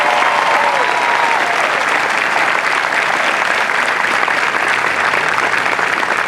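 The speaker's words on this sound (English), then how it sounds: "Please join me again in a round of applause for our 50 the best of all" Sustained, dense applause from a large crowd at an Air Force basic military training graduation parade, steady and loud throughout with no break.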